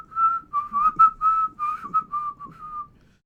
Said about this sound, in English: You hear a whistle coming your way.